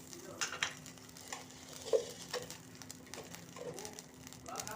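Homemade butter, churned from yogurt, melts in a bowl over heat for a chicken handi, giving a soft, steady sizzle with light stirring scrapes and a few faint clicks, low and continuous with no talking.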